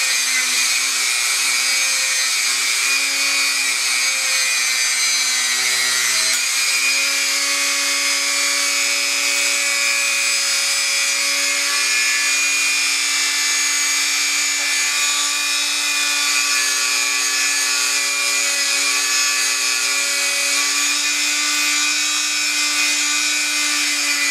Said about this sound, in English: at a low speed for the wire brush. Oh yeah, it's coming right off.